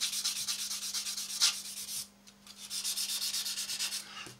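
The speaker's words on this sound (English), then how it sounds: "then we can come along with a sanding sponge" A sanding sponge rubs back and forth over a plastic model kit part of an Eduard B-24 bomber, quick rhythmic strokes close up, with a brief pause midway before the scrubbing resumes, no talk.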